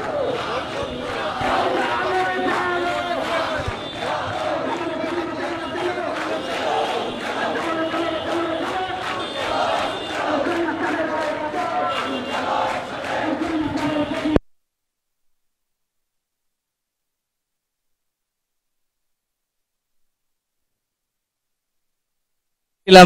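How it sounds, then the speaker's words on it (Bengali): BCS exam candidates blockading Shahbag chant protest slogans in a loud, rhythmic crowd roar for about fourteen seconds, voices massed and close. Then it cuts abruptly to silence. "শাহবাগ ব্লকেট করে এই মুহূর্তে স্লোগান দিচ্ছে বিশেষ পরীক্ষার্থীরা"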